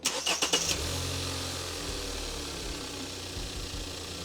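A car engine cranks in a few quick bursts and catches after new spark plugs and coils are fitted, then settles into a steady, smooth idle nearby.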